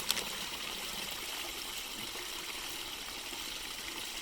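Stream water flowing steadily into a bottle being filled outdoors for a Sawyer Mini filter, a constant close trickling and gushing hiss throughout with no talk.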